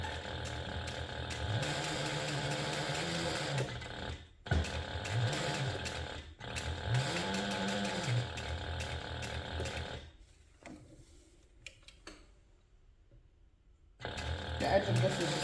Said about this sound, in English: now we're just going to top stitch over these using 1/8 inch seam allowance